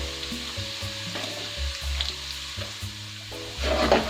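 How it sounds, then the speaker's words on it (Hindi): Crushed red chili roasting in a hot pan while cooking orange chicken, a steady soft sizzle with low background hum and occasional clinks, no talking. "कुटी हुई लाल मिर्च लूंगी 1 टीस्पून। 1 मिनट भुनेंगे इसे।"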